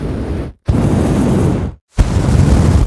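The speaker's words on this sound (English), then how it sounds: "flamethrowers" Flamethrower blasts: two sustained, loud roaring bursts of fire, each cut off abruptly before the next ignites, close and with no voices.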